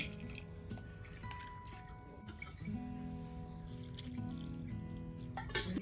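Soaked chana dal is washed in water by hand, giving quiet, close sloshing, dripping and squishing sounds in uneven bursts.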